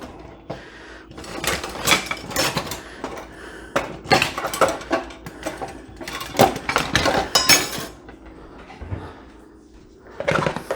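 A spoon clinks and scrapes against a pot of barbecued baked beans with pork, giving a series of close, irregular metallic taps and stirring scrapes over about ten seconds, with a short pause near the end.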